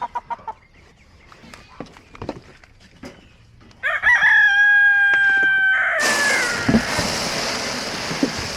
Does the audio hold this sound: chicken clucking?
yes